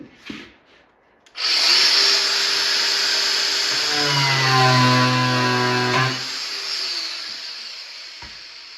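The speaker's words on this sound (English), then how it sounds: "I don't know if I can just cut this wood a little bit with my grinder." Angle grinder cutting into wood on a rotted arcade cabinet during restoration, a loud sustained whine starting abruptly after a brief knock and running for several seconds before tapering.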